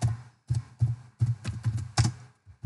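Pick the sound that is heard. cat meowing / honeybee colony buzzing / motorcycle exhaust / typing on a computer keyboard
typing on a computer keyboard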